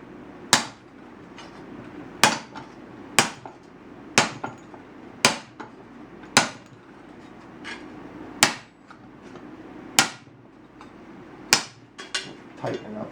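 Sharp metallic hammer blows strike a rusty tractor rim during repair, about a dozen distinct hits at irregular intervals, loud and close with brief ringing decays.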